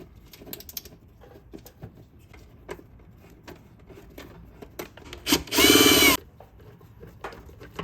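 Power tool briefly driving a bolt during a Firestone Ride Rite air bag install on a Toyota Tundra, a short loud whirring burst amid light clicks and handling noises of close-up work.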